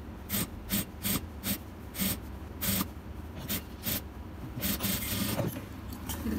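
A sewing machine stitches two pieces of fabric for a girl's silk pavadai skirt, giving rhythmic bursts of mechanical whirring and thudding, close and fairly loud, with brief pauses between runs.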